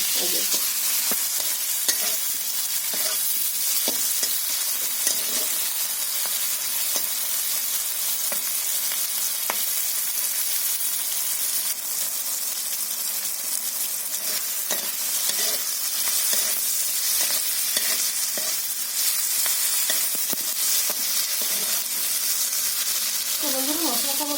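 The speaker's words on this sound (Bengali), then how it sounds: "ওর জন্য আমি মশলাটা ভেজে নিচ্ছি" Spices fry in a pan for a fish curry, a steady, dense sizzle that runs unbroken throughout with faint stirring scrapes and no voices.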